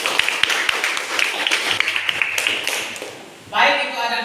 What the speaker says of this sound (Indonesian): Tepuk tangan untuk Abroy